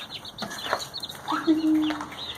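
Newly hatched black game-bird chicks and chickens make high, thin peeps and a brief clucking call, close but fairly soft, over a faint background hiss.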